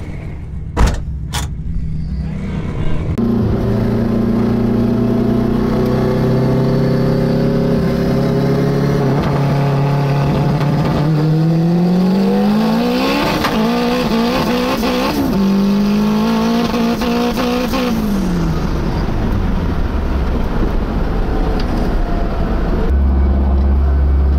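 Honda Civic race car engine idling and then revving, a loud close engine drone that rises and falls in pitch through several throttle blips over about twenty seconds, with a few sharp clicks before it starts and no talking.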